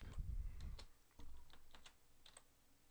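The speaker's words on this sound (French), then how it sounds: "Il suffit que j'entre les données de mon texte sur le clavier." Text typed on a computer keyboard in an image editor, heard as quiet, irregular key clicks in short bursts close up, with no voices.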